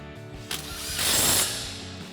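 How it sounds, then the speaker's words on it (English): An impact wrench with a 17 mm socket drives a 17 mm nut tight during a truck lift kit install, a short loud rattling burst of hammering over steady shop background noise. "We'll go ahead and tighten that back down with our 17 mil socket on our impact."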